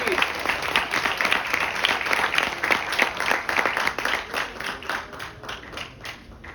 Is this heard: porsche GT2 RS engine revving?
no